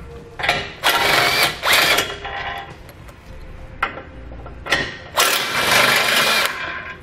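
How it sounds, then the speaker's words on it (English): A 16mm socket on a tool loosens the front tow-hook bolts on a 2018 Jeep. Several short, loud mechanical bursts are separated by brief pauses, with quieter clicks and rattles in between. "Now remove the 2 bolts located at the front by the hook with a 16mm socket."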